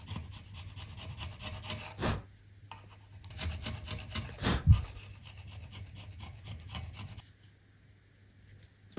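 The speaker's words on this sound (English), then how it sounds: "I'm chiseling off all the glue residue from the bridge" Chisel scraping glue residue off a wooden guitar bridge, irregular close rasping and rubbing strokes with a couple of sharper knocks, fairly quiet and alone.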